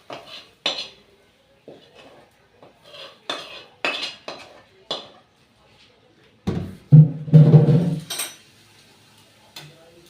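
Metal utensils scrape and clink against a pan as Bombay duck fish, cooked soft and mushy, is lifted off a switched-off gas stove; scattered clatters build to a louder burst of scraping near the end.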